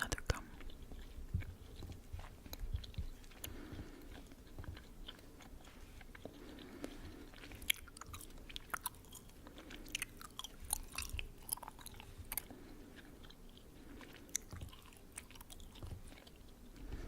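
Gum chewed right up against a microphone, a continuous stream of close, wet smacking and clicking mouth sounds with irregular rhythm, fairly quiet overall.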